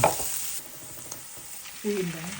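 Chopped onions fry in leftover egg-frying oil in a pan while cooking Filipino menudencia, a steady soft sizzle with a brief stir at the start and a short faint tonal sound near the end.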